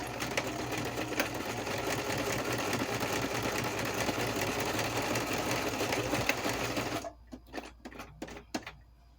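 A sewing machine stitches postage stamps onto paper from one corner to the other, whirring in a rapid, steady buzz for about seven seconds, then stops, leaving a few close clicks and handling taps.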